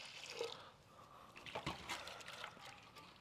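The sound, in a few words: water being poured in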